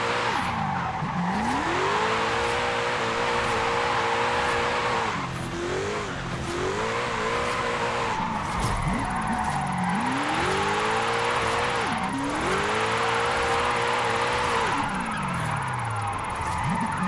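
A 1982 DeLorean DMC-12 on an all-wheel-drive drift tune in a racing game howls as its engine revs rise and fall repeatedly, with long tire squeals and skidding throughout the drifts, loud and steady.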